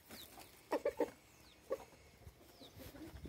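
Farm chickens clucking, a quick cluster of three clucks followed by a single one a moment later, moderately close against a quiet outdoor background.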